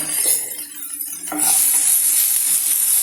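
Sliced onions frying with salt in a pan, a loud close hiss that dips briefly, then swells after a light clink of a utensil and stirring.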